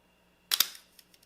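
A Leica M camera shutter fires at a slow speed: one sharp mechanical snap with a double click, followed by a few fainter ticks trailing off, close and isolated in near silence.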